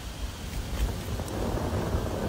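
Wind blows outdoors around a gas fire log burning on a low setting, a steady, faint, broadband rumble and hiss with slight buffeting on the microphone.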